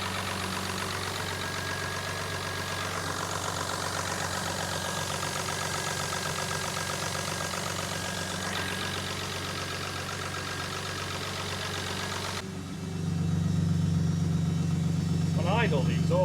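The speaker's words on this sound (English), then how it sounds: "It's idling really well." Jaguar engine fitted in an MGB GT idling smoothly and steadily while warming up, a low continuous hum with a quiet exhaust and someone talking over it.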